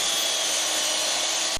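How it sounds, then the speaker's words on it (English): A power tool, likely a drill, whines steadily at a construction summer camp classroom, loud and close for a brief burst that cuts off abruptly, with no talk. "drilling, and hammering"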